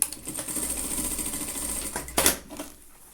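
Sewing machine stitching a handmade fabric bag, a steady close mechanical rattle running nearly the whole time, with a short louder burst near the end before it fades.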